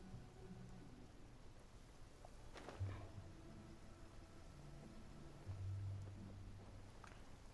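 Steady rain in the Genshin Impact video game, a soft, even hiss that holds throughout at low volume, with a couple of faint low rumbles rising briefly underneath.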